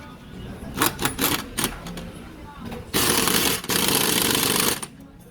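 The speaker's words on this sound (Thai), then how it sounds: "ต่อมาก็ยิงน็อตนะครับ" An impact wrench drives nuts on a 2011 Honda Scoopy-i scooter during fork tube replacement, with several short rattling bursts followed by two long loud hammering runs close to the tool.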